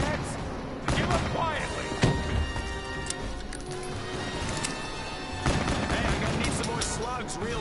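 Gunfire from a PS4 shooter game cracks out in loud, sharp bursts, with heavy hits near the start and a dense cluster later, set against a constant busy game soundscape.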